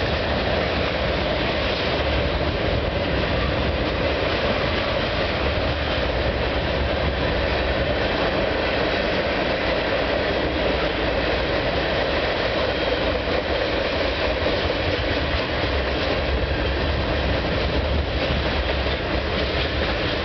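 CN freight train 395 passing at a street crossing in Milton, Ontario, a steady loud rumble of rolling cars and wheels filling the whole stretch without pause.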